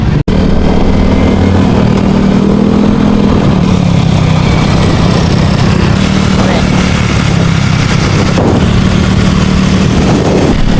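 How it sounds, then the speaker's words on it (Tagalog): A new motorcycle's engine runs close by at a steady idle, loud and continuous, with a faint higher hum and a few brief clicks, and no one speaking. "Tapos yung bagong motor natin na yun."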